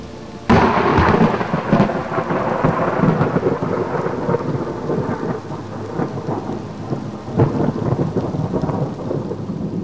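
Rolling thunder booms loudly through a thunderstorm and then rumbles on under steady, hissing rain for about ten seconds, with no voices.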